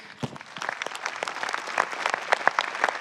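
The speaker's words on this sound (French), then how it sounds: "Vous pouvez vous applaudir." A large audience of about 3000 at an evening New Year's wishes event applauding in a hall, a dense continuous patter of many hands that stays fairly even and grows slightly louder.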